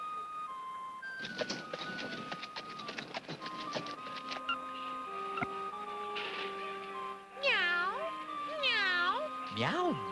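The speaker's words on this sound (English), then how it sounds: "Meow, meow." Cartoon cat meowing amid electronic beeps and tones, several rising and falling meows near the end, loud and close over a busy backdrop.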